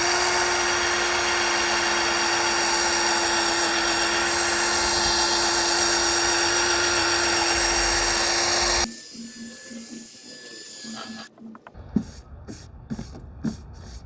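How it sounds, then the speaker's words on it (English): A power drill fitted with 500 grit sandpaper whines steadily at a high pitch while sanding a cloudy car headlight held on a jig. After a long, even run it cuts off, leaving a few quiet clicks and taps. "So we're gonna start sanding this with 500 grit sandpaper and try to get most of this cloudiness off."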